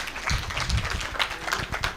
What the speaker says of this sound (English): Please clap for the panel.